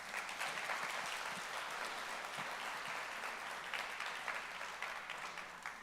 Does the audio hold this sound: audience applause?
yes